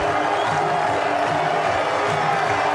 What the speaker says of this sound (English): What a shot, and the crowd are going nuts here